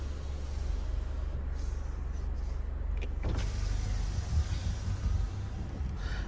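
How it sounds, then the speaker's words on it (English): Power windows on a 2021 Land Rover Defender 110 P300 S whirring open, a steady electric motor hum over low cabin rumble that shifts partway through and runs continuously without talk. "Windows are fully automatic all the way around, and they're nice and quick"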